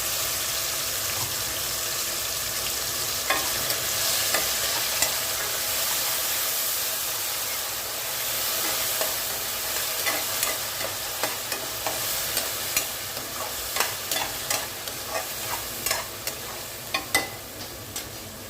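Tomato, garlic and shallots sauté in an oiled pan for a fenugreek curry, making a steady, close sizzle. Stirring clatters against the pan grow more frequent toward the end.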